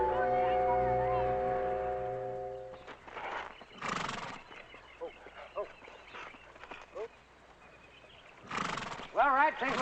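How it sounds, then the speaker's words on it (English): A horse whinnies loudly mid-clip and again near the end, with hoof clops and people talking in between. "Beautiful horse."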